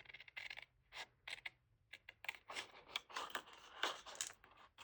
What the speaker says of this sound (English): I'm going to fussy cut right out of here.